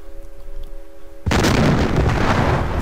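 Naval gunfire in the Jutland computer-generated battle game: a quiet tonal hum suddenly breaks into a loud, heavy blast that keeps rolling and rumbling for over a second.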